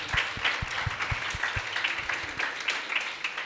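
Warm audience applause for a guest speaker at a university high tea book discussion, a steady patter of clapping with a few distinct close claps, moderately quiet and continuous.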